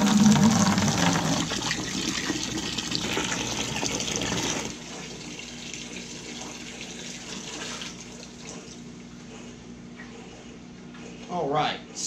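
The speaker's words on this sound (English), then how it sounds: "I've got just a simple piece of vinyl tubing that I'm going to start a siphon and put it into another bucket." Aquarium water siphons through vinyl tubing into a bucket, a loud rushing pour that abruptly drops to a quieter trickle, with a brief gurgling splash near the end.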